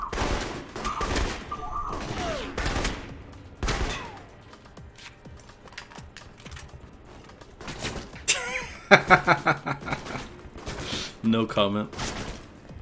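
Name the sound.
gunfire from enemies in the video game Alpha Protocol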